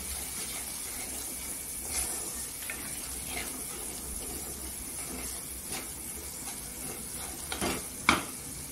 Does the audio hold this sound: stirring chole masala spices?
yes